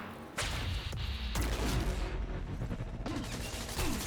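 Heavy bursts of slowed-down gunfire in the Quantum Break video game, dense and loud throughout, with deep booming impacts and rumbling crashes running together.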